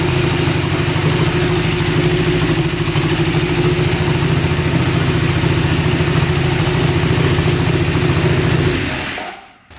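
A Honda CB750 motorcycle engine idles steadily and close after a carburetor fuel screw adjustment, a loud, even rumbling throb that holds for several seconds before cutting off abruptly at the end.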